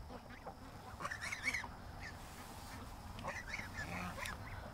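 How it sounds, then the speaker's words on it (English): Ducks quack faintly at a distance while approaching, scattered nasal calls rising over steady outdoor background noise. "Oh, ducks, look who's coming."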